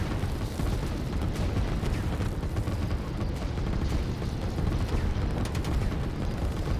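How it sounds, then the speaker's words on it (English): Continuous artillery bombardment in the strategy game Line War, a dense, steady roar of overlapping booms and blasts that holds at the same loudness throughout, with no voices. "These artillery are pretty much destroying everything there"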